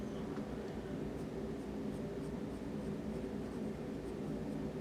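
Pencil drawing a bear on paper, a soft continuous scratching and shading hiss heard up close, faint and steady with light strokes throughout.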